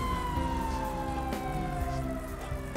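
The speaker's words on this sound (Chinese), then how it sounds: "这附近有警车在，应该不是在追我吧？" A police car siren in the video game GTA5 wails steadily and loudly, its tone sliding slowly downward, with no talk over it.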